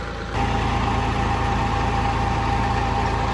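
A Kirloskar Shakti generator running off a tractor drive kicks in after a brief quieter moment. It settles into a loud, steady, low mechanical drone with a rhythmic engine pulse.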